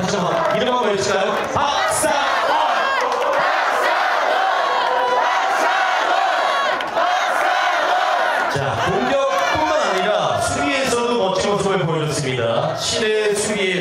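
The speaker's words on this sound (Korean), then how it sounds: "다시 한번 이름 한번 외쳐주세요." A baseball crowd cheers and chants a player's name after a game-winning hit, loud massed voices roaring in rhythmic waves that fill the stadium almost without pause.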